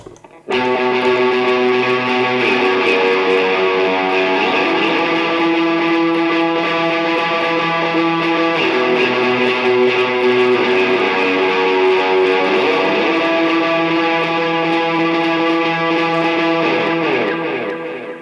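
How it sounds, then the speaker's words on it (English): Distorted electric guitar through a TC Electronic Nova delay, one loud sustained chord ringing steadily for about seventeen seconds with a thick wash of echoes before cutting off. "So with the same distortion and that delay, it will sound like this"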